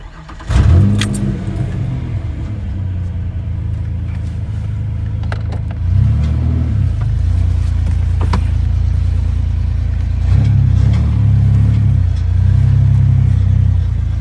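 A Ranger off-road vehicle's engine cranks and catches near the microphone, then settles into a loud, steady idle with a couple of brief revs.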